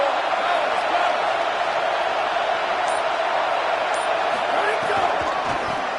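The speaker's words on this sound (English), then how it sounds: "Big 3rd down as the crowd gets behind this defense." Stadium crowd at a college football game roaring steadily behind the defense on a third down, a dense, continuous wash of cheering with occasional whistles and an announcer's voice faintly under it.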